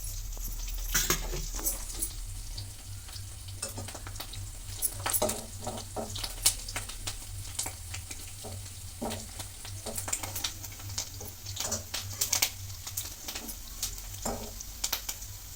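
Chopped green chillies fry in a pan for huli butti, a soft steady sizzle broken by frequent sharp clinks and scrapes of a spoon stirring against the metal, close by and with no talking.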